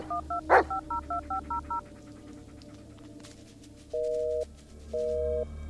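Touch-tone keypad beeps from a phone dialing in the horror game Blair Witch, eight quick tones in a row, then a pause and two long busy-signal tones, loud and clear with no talk.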